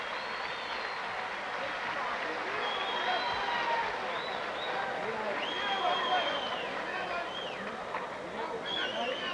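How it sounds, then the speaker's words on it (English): A boxing crowd at the 1987 Pan American Games in Indianapolis gives a standing ovation. The applause and crowd noise are sustained and fairly distant, with scattered whistles and shouts throughout. "standing ovation from the partisan crowd here at Indianapolis"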